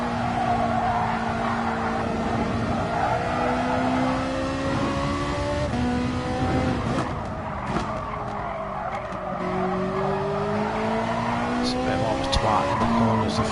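A Ferrari race car in the racing game GT Sport at the Nürburgring, engine droning and shifting pitch continuously with tire squeal through corners, loud and steady, with a voice talking over it.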